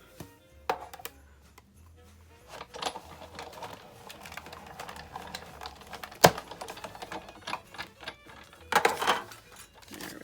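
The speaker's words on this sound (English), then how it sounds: "and then I'm going to die cut it." A die cutting machine presses a metal die through a piece of cardstock for a handmade luminary Christmas card, making a string of close, uneven clicks and mechanical taps, with a sharp crack partway through and a busier burst near the end.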